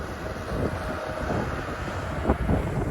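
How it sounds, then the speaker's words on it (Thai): Steady wind roaring and buffeting outdoors, a continuous rushing noise with a brief louder gust near the end. "ลมมาแล้วพี่น้อง"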